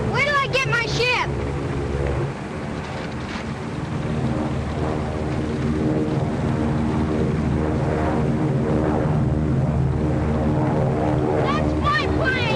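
A propeller airplane flies in a 1939 film scene, its droning engine hum continuous and loud throughout. A rumbling, noisy background sits under it, and voices speak over the drone.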